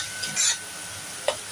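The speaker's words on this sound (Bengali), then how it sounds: "এবার ভালো করে আমি ভেজে নেব।" Spice paste for ghugni, wetted with a little water, fries in a pan with a faint sizzle, a short scraping stir and a sharp tap near the end, close and quiet.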